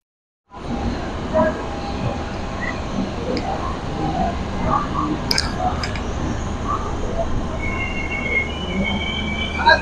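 A passenger train pulling into a railway platform on a Guntur to Vijayawada journey, wheels squealing with high metallic screeches over a steady rumble of rolling stock, close and continuous.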